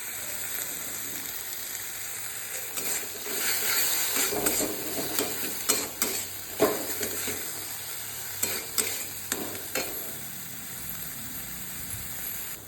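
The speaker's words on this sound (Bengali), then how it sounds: "সব কিছু ভালোভাবে কষানো হয়ে গেছে" Spices with coriander powder and tomato sizzle in oil in a pan for a tangra fish curry, a quiet crackle broken by irregular scraping strokes of a spatula, heard alone without talk.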